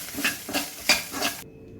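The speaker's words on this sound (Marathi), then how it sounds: "हे खोबरं आणि हे गरम सगळं मसाला भाजून घ्यायचा" Grated coconut and garam masala dry-roasting in a pan, giving a few soft scraping stirs with light clinks of a spoon against the metal, fairly close, with no talking, ending in near silence.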